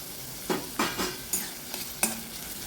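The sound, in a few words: stirring frying garlic in a pan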